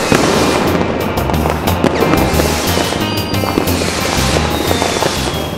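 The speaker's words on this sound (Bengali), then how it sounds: "ওইটা কত বাজির আওয়াজ শুনছি। রকেটও উড়ছে।" Kali Puja fireworks, with firecrackers bursting and rockets going off in a dense, continuous barrage of loud cracks and pops that overlap without a break.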